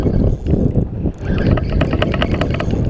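Steady low rumble of boats and jet skis on open water, with wind buffeting the microphone and a few scattered higher knocks and splashes.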